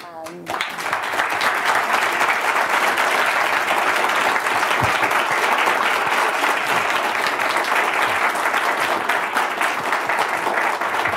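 Sustained loud applause from a large audience after a speech by Alibaba executive chairman Jack Ma, a dense even wash of clapping that starts abruptly and continues unbroken throughout.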